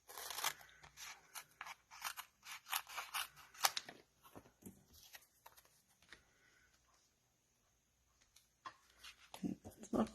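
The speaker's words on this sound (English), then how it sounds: "I think we can just cut it with scissors today" Scissors snip through a craft foam sheet for an autumn leaves card, making a quick run of close, crisp crunching cuts that stop for a quiet pause before a few final snips.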